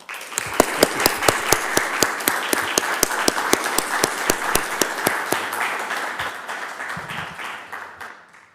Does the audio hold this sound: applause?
yes